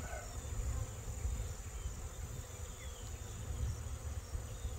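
A honeybee swarm buzzes around a swarm trap in late September, a steady, soft hum of many insect wings that continues with no talking.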